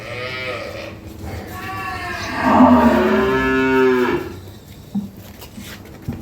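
A dairy cow nervous in a new place at an agro farm lets out a long, loud, close moo, with farm background noise and a brief thump afterward.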